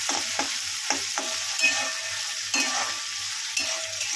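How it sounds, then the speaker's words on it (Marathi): Onion and tomato frying in oil for a sprouted moth bean curry, a constant close sizzle punctuated by regular spoon strokes scraping and stirring through the pan. "आता हा कांदा टमाटर आपण मस्त तेलामध्ये असा फ्राय करून घेऊया"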